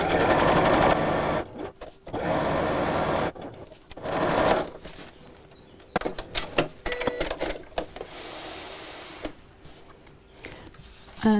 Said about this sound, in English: When you sew through it like that, it bends really nicely,